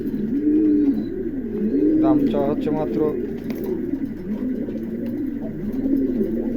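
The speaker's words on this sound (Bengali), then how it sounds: "খুবই চমৎকার একজোড়া কবুতর আছে" A pair of king pigeons coo in low, rolling, repeated phrases close by, while someone speaks over them.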